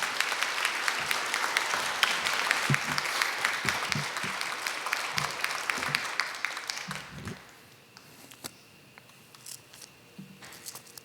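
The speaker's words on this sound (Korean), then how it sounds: "오늘 나오실 때 박수로 환영하고요" Church congregation applause welcoming a missionary to the pulpit, a dense warm roll of many hands clapping for about seven seconds, then thinning to a few scattered claps and light room noise.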